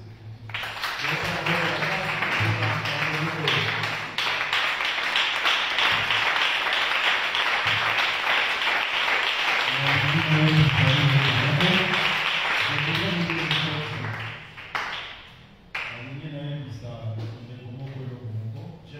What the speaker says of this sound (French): Acclamez pour ces écritures